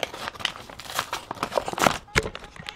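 A mailed package with only a stamp on the back is torn open, with dense, loud paper crinkling and ripping in close, irregular bursts throughout.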